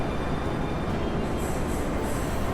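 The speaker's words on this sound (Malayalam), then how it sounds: "ഇതാണ് നമുക്ക് പോകേണ്ട ആ ഒരു ഐക്കോണിക് പഴയകാല സോവിയറ്റ് മെട്രോ ട്രെയിൻ" An old Soviet-era metro train in the Baku Metro, Azerbaijan, rumbles steadily in an underground station, a continuous loud rolling rail noise with faint high squeals and no talk.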